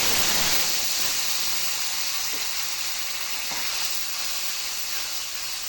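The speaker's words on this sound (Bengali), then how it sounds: "পরিমাণ মতো সরিষার তেল এখন দিয়ে দিচ্ছি সামান্য হলুদ গুঁড়ো আর গুলে রাখা মশলা" Steady loud hiss of turmeric and ground spice paste hitting hot mustard oil in a pan, a continuous broadband sizzle that eases slightly over several seconds, with no talking.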